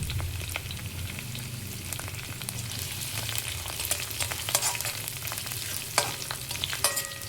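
Steady sizzle of curry leaves and green chillies frying in a pan for broccoli and mushroom fried rice, with occasional scrapes and clinks of stirring, close up and without talk.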